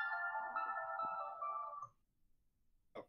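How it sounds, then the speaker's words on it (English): A phone ringtone plays loud and close in a tonal, melodic pattern for about two seconds, then cuts off into quiet, with a brief noise at the end and no talking. "That was my phone."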